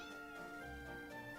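A pet cat's short, faint squeak for attention, a single thin tonal chirp heard up close in a quiet room.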